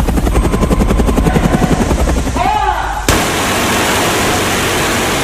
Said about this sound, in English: to fly a helicopter down the front of a building